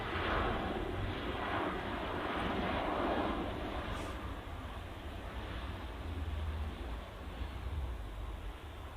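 Steady, moderately distant jet engine roar from an orange easyJet airplane at Manchester Airport, broad and continuous with slight swells in loudness and no speech over it.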